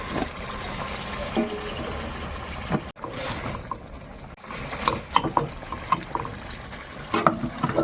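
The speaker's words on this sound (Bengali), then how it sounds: "আমি যে বাটিতে একটু জল দিয়ে ধুয়ে রেখেছিলাম ওই জলটা আমি দিয়ে দেবো" Rinse water from a bowl is poured into chicken cooking in oil with spices, setting off a rushing, spattering hiss that dips and then returns as crackling bursts and light pattering.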